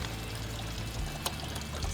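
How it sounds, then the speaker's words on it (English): Coolant pouring and draining out of the water pump area of a 2013 VW Beetle, a steady close-up splashing stream running for the whole stretch with no talking. "Pop that off, let everything drain out."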